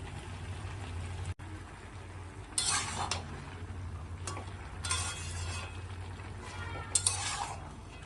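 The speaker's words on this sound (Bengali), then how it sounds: "এবার আমি শাকটা দিয়ে দিচ্ছি" Malabar spinach goes into a pan with a hilsa fish head and is stirred. Soft sizzling and a low hum run throughout, with intermittent scraping and utensil clinks against the pan; no talking.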